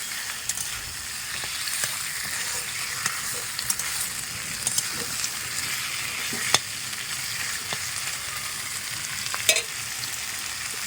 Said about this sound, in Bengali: এইখানে কিন্তু একটু ছোট জ্বালানি দিকে সুন্দরভাবে কিন্তু আমি মাংসটাকে কষিয়ে নেব